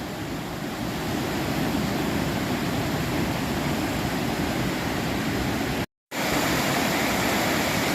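A big waterfall at Ricketts Glen State Park roars in a loud, steady broadband rush of falling water, heard up close and alone, with a brief dropout near the end.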